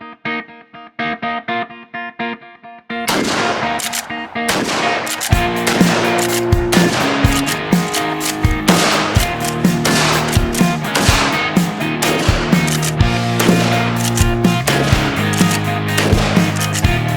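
Charles Daly Honcho 410 pump shotgun fired repeatedly outdoors, a rapid dense series of sharp, loud reports after a few seconds of music-like tones, continuing steadily with little pause between shots.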